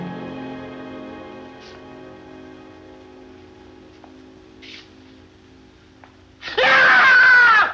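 Someone screams as the scaredy-cat comic in the horror comedy Abbott and Costello Meet Frankenstein, a loud, shrill wail that bursts in near the end after a long stretch of quiet, low background.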